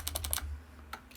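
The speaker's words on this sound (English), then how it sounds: "I'm going to plug it into my calculator as is." Calculator keys tapped in quick succession, a run of four light clicks followed by two more after a short pause, close and clear with no talking.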